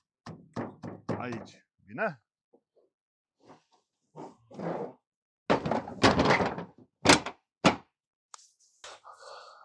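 Heavy trailer door shut behind a truck during a new-driver induction at a transport company, a few loud metallic thuds and knocks between bursts of nearby talk, with a brief squeak.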